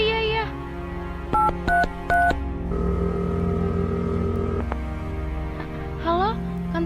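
Telephone keypad tones beep in a short sequence of dialing presses while a call to the police is placed in a radio drama, with background music and a later ring tone.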